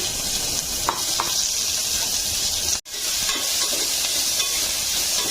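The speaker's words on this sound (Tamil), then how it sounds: "கட் பண்ணி வச்ச வெங்காயம் போட்டுட்டு வதக்கிக்கிறேன்" Chopped onions sautéing in a pan for sambar, a steady broadband sizzle with occasional stirring scrapes, continuous and fairly close, with a brief dropout midway.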